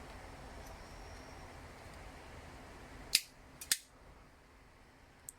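A wire snipped with cutters: two sharp metallic clicks a moment apart, then a faint third, over a quiet room hum.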